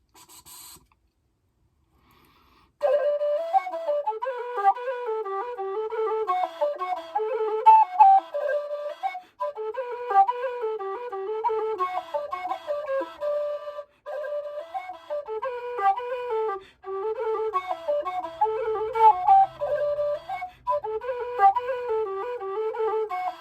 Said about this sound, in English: So you can hear with that whistle head, it's got just a little more chiff in the sound